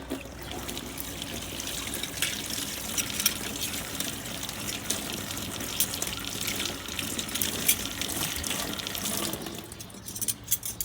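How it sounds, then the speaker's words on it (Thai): Plain tap water running steadily while scrubbed personal items such as a spoon are rinsed under it, a continuous close splashing trickle that cuts off near the end. "พอได้แบบนี้แล้วนะคะ เราก็ล้างน้ำเปล่าค่ะ"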